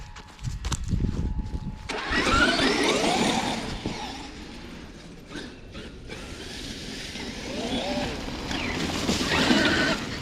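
A Traxxas XMaxx RC truck's electric motor whines and surges in broad, rising and falling bursts as it drives around outdoors near a wooden shed frame, with a louder pass toward the end.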